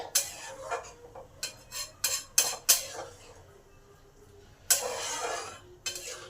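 Chana dal and potatoes stirred together in a pot over high heat, a series of loud metallic scrapes and clinks of a spoon against the pot, bunched early then a longer scraping pass.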